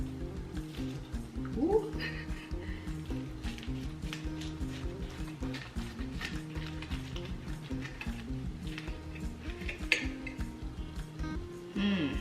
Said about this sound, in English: Let's cut this one